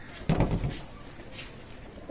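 Teddy pigeons, a master pair, give a low cooing burst near the start, followed by quieter murmuring and faint background noise.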